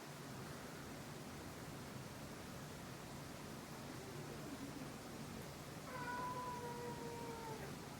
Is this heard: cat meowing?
yes